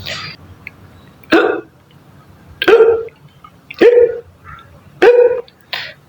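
A person hiccups five times at uneven intervals of about a second, each a sharp, close, loud gulping catch, with quiet pauses between.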